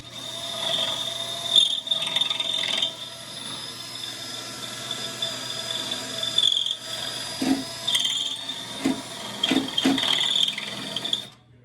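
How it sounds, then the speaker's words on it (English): Drill chewing out spot welds to remove a mount in a Honda engine bay, a steady high grinding whine running for several seconds with small surges and pauses, heard fairly close and alone. "Drilling out spot welds"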